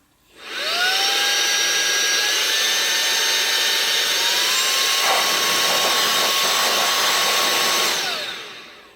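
A battery-powered shop air blower switches on and runs at full power, a loud steady whoosh with a rising motor whine that holds for several seconds before winding down at the end.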